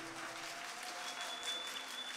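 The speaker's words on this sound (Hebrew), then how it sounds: "מגיע לו מחיאות כפיים" An audience claps for a singer at a pre-Passover seder concert. The applause is dense and continuous, heard fairly faintly and at a distance, with no voices over it.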